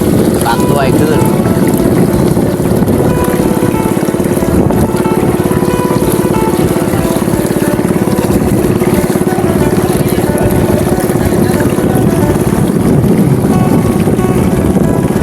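Wind roars steadily across the microphone during a boat crossing of the Mekong River from Ban Pak Tuay to Ban Don Daeng in Pathoumphone, Champasak, with a constant low engine drone beneath the loud buffeting for the whole stretch.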